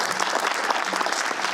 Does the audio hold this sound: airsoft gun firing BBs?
no